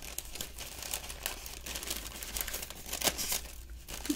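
Paper being torn and crinkled for ASMR, close and crisp, with repeated rips and rustles in an irregular rhythm and no talking.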